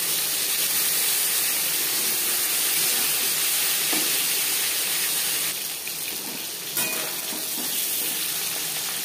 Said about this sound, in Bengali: যেহেতু আমার কড়াইটা বড়, তাই আমি একবারেই ভেজে নিচ্ছি